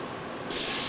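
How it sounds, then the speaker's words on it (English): A loud burst of steam spraying suddenly starts and continues as a broad, close hiss on a Lamborghini factory production line in 1996, after a moment of quieter machinery background. "Steaming it all out."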